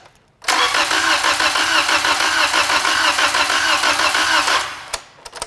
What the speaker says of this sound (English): and if we crank it over,